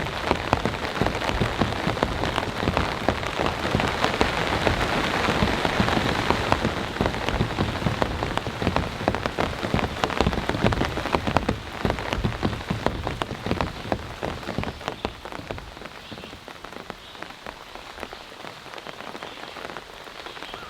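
Heavy rain drums steadily on a tent at a camp during a thunderstorm, a dense, close, continuous patter that eases slightly toward the end. Nobody speaks.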